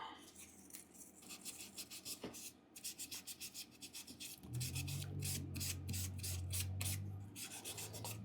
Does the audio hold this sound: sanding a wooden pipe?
yes